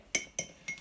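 A mug holding mug cake batter is set into a microwave, giving three quick, light ceramic clinks and taps, close and fairly quiet, with no talking.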